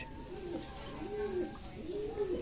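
Budgerigars in a pet bird colony call in a steady stream of soft warbling chirps and cooing notes, close and continuous over a constant background hiss.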